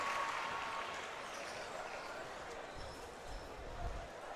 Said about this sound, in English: There's big cheers coming from the crowd.